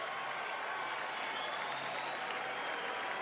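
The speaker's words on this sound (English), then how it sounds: "Crowd cheering not only the base hit, but for the fact that that wasn't an out." A baseball crowd at a 1996 Red Sox at Tigers game cheers a ground-ball base hit, a steady wash of distant applause and roaring voices throughout.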